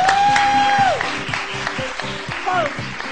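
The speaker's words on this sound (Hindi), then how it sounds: "अरे बहुत सारी तालियां।" Studio audience applause on a Pakistani morning talk show, a dense sustained patter of clapping that runs the whole time while a host's voice talks over it.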